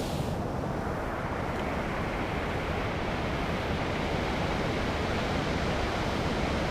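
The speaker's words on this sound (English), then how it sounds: "It sounds like it's a waterfall." A waterfall in the video game ARK: Survival Evolved Genesis 2 roars as a constant, dense rush of falling water, loud and unbroken throughout with no speech.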